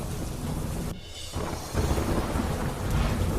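Heavy monsoon rain pours steadily in Gujarat while a deep roll of thunder rumbles through the downpour.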